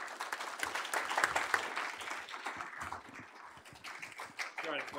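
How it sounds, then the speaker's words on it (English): Audience clapping after a policy debate, a modest round of applause with uneven claps rising and falling over a few seconds, with some talk mixed in. "Let's give both of our combatants here a round of applause."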